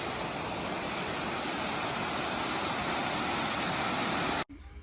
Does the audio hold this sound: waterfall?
yes